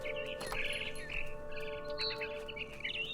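Birds chirp in the video game What Remains of Edith Finch, a scatter of short high tweets over a steady low ambient hum, moderately faint, with no talk.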